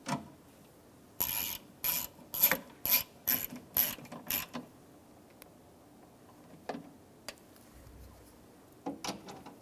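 Socket ratchet tightening window regulator bolts inside the door of a 2014-2019 Toyota Highlander: a steady run of about eight sharp ratcheting bursts, then a few scattered clicks and knocks, close up with no talking.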